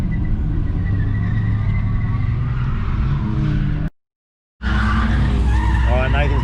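A Ford AU Falcon drifts at a drift park, its tyres skidding and the engine roaring loud and close, broken by a brief gap of silence before the tyre noise and engine return.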